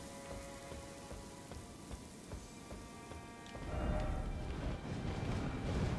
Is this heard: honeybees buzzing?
no